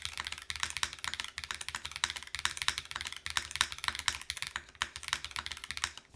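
Rapid typing on a Razer BlackWidow V4 Pro 75% gaming keyboard with a Cherry spacebar, crisp close-up clacks in quick uneven bursts with a few heavier keystrokes mixed in, fairly quiet and alone.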